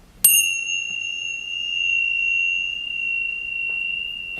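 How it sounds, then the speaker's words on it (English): A single meditation bell is struck once near the start, its bright ring sustaining clearly and slowly fading over several seconds in a quiet room with no talking. "let's start with the bell"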